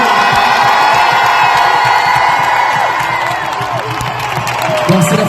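A big stadium crowd at a concert cheers and applauds Stade Toulousain. The roar is loud and steady, with whoops and clapping throughout and voices mixed into the din.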